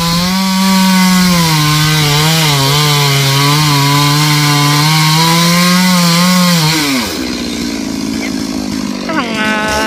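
A loud chainsaw running close by, its engine droning and shifting pitch as it bites through a coconut tree, then dropping to a rough idle.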